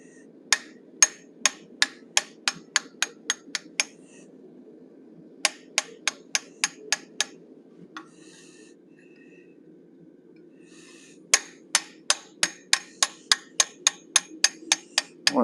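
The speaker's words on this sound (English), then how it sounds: "I'm going to open up the sockets for his eyes, and I'm using a teardrop shaped" Hammer strikes on a teardrop-shaped bob punch opening eye sockets in a forged cougar head, ringing in three quick bursts of about eight to ten sharp metallic taps each, separated by short pauses over a low steady hum.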